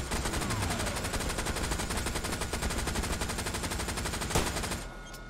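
Machine gun fire from a strafing run in Hell Let Loose, a loud, continuous rapid rattle of shots sustained for several seconds with one sharp blast near the end before it cuts off.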